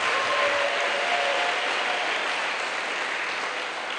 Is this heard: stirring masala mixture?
no